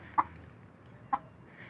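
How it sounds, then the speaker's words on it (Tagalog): A chicken gives two short, quiet clucks about a second apart against a soft, low background noise. "Ito naman yung aming manok"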